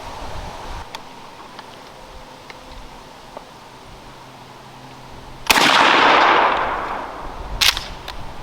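A shotgun fires a 3-inch, 1.25-ounce load of steel number 2 shot at a pattern target 30 yards away. A single loud blast cracks out after a quiet stretch, followed by a decaying outdoor echo and a smaller sharp sound.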